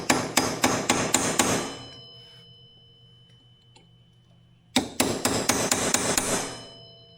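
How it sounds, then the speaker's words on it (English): Two quick series of sharp metallic hammer taps on a punch, about five strikes each, separated by a pause of near silence, while changing a wheel bearing on a Yamaha Grizzly 700 ATV. "grab your hammer and a punch. You're just gonna tap this back"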